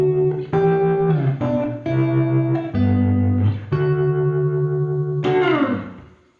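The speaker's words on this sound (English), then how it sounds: "this is a stereo effect, so it is kind of bouncing between left and right" Distorted guitar-like synth notes run through a Logic Pro stereo pedal effect that bounces the sound left and right, a sequence of sustained chords and slides with a final bright strike fading out.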